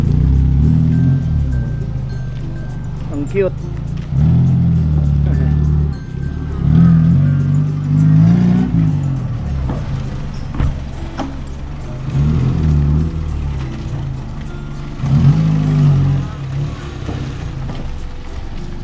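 Small cars run past at speed with engines humming and revving in repeated low surges, fairly close, while people chatter briefly over them.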